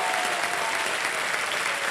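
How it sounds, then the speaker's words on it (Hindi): A studio audience on a family quiz show applauds steadily and loudly, a dense wash of clapping filling the whole stretch without any voices over it. "स्वागत किया जाए उनका तालियों के साथ"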